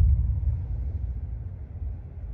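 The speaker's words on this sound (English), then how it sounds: "Ooh, rolling thunder." A deep, low rumble of rolling thunder over a mountain cabin rolls continuously, steady and distant-sounding, with no voices over it.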